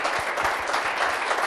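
A short burst of studio audience applause during an Italian local TV broadcast from Bolzano, dense clapping that fills the moment without breaking up.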